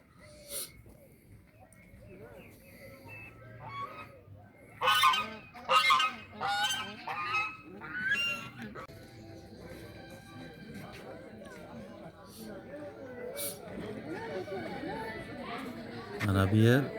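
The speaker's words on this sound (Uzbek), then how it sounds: "Mana g'ozlar xursand." Geese honking at a pond around a tree-covered island at a sanatorium, repeated loud honks in bursts close by, with chatter and a person talking alongside.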